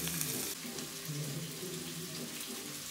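Spring onions fry in groundnut oil for a Chinese takeaway-style chicken dish, a steady hissing sizzle with a faint bubbling undertone, close and even, no one speaking.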